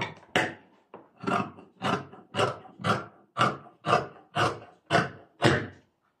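Scissors snipping through the hem of a prayer dress fabric, about ten crisp, evenly spaced cuts in a steady rhythm, close and clear with no talking.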